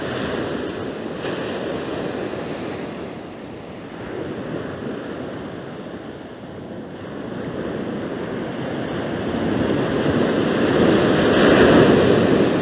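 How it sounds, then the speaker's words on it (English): Ocean waves crash onto a UK fishing beach as the tide turns, a loud, continuous roar of surf that swells and eases, with wind buffeting the microphone and no talking. "Waves are really crashing."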